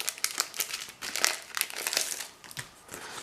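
Plastic packets of craft transfer sheets are torn open and handled, giving loud, close crinkling and rustling in rapid irregular bursts that continue for about three seconds.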